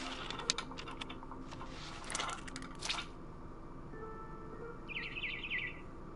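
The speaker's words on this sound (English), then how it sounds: "Then I heard chirping outside my window. It was a barn swallow going back to her nest." Barn swallow chirping in the video game What Remains of Edith Finch. The short, bright, rapid chirp comes late and at moderate volume, after a stretch of soft clicking and tapping over a quiet ambient bed.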